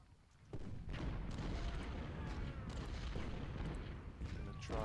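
Cannon artillery fire in a strategy video game, heavy booming blasts and rumbling gunfire rolling continuously for several seconds at steady loudness, with no talking over it.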